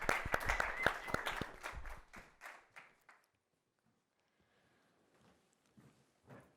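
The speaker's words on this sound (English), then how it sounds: "Give her a round of applause, Shirley." Audience applause welcomes a speaker, with a burst of close, loud clapping that thins out and fades within about three seconds, followed by near silence and a few faint scattered sounds.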